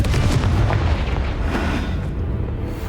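Bombarda spell explosion in the game Hogwarts Legacy, a loud deep boom that rolls out and fades over a few seconds.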